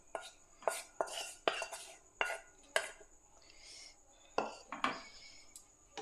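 Fried shrimp and taro stems being mixed by hand in a metal bowl, with a series of sharp clinks and scrapes at irregular intervals and quieter squelching between them.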